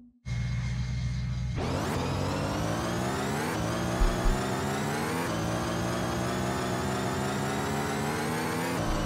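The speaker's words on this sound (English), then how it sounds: "Now let's listen to the engine audio." The Batman 2016 Batmobile in the car-soccer game Rocket League gives a steady, loud engine drone that starts abruptly and holds throughout, with repeated rising revs and gear-like shifts and no talking over it.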